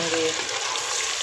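Meat frying in a pan with ginger garlic paste for namkeen gosht, a steady broadband sizzle that stays loud and even throughout the short stretch, with no pauses or distinct stirring knocks.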